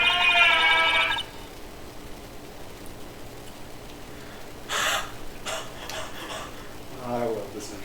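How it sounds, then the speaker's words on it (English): A short, bright, buzzing electronic notification chime from the Ace Attorney video game plays at the start, then fades into quiet background ambience with faint scattered clicks. "I love this notification sound so much"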